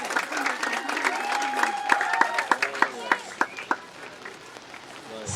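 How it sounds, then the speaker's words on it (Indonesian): Audience applause at the opening service of an Easter children's camp in Wondama, a crowd clapping together with many sharp claps rising toward the end, mixed with voices and chatter. "Mari kita tepuk tangan yang meriah"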